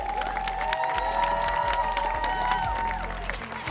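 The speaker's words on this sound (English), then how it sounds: "Start clapping right now for your next poet" Audience at a youth poetry festival on a theatre stage, applauding and cheering continuously for an incoming poet, a dense sustained wash of clapping with crowd noise and a held tone throughout.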